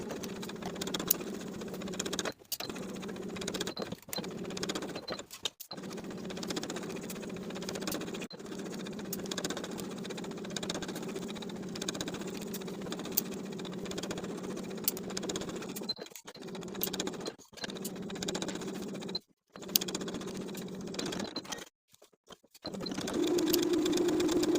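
A sewing machine stitches a dress neckline and armholes at a half-inch seam allowance, running in long steady hums broken by short pauses throughout.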